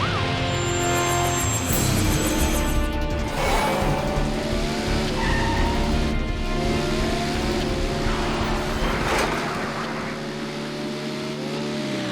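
Cartoon car skidding as it struggles to stop, loud screeching tire squeals and sliding whines over a roaring engine, several sweeping squeals in succession before easing off near the end.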